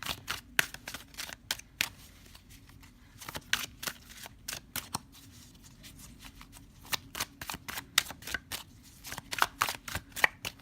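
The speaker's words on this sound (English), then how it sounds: "some stubborn cards here." Tarot cards being shuffled by hand close up, a quick rapid patter of flicking and riffling card edges in bursts, with no talking.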